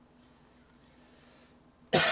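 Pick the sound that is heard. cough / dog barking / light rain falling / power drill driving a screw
cough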